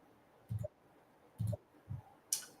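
Three distinct clicks spaced about a second apart, crisp and fairly close, followed by a brighter tick; no talking.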